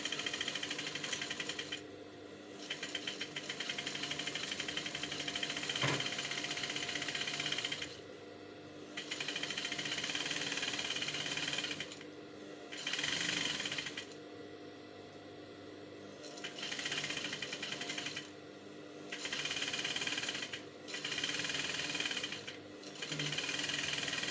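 Sewing machine stitching a second seam line close beside the first on an off-shoulder umbrella dress, running in long steady bursts of rapid mechanical whirring broken by short pauses, close and loud with no talk.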